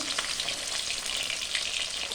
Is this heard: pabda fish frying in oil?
yes